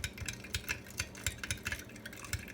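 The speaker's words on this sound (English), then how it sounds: "Then I'm going to use my spoon and I'm going to stir it up." A spoon stirs a teaspoon of sugar into water, clinking against the glass in a quick steady rhythm of light taps, close and fairly faint with nothing else heard.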